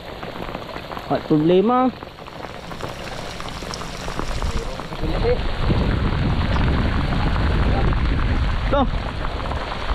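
Heavy rain pours steadily onto a boat during a casting trip, a dense hissing wash that thickens midway and continues under brief spoken exchanges.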